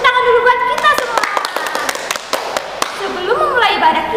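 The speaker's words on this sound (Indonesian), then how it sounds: "Tepuk tangan dulu buat kita semua" A church youth congregation claps hands in a burst of sharp, uneven claps mixed with voices, a brief round of clapping at a worship service.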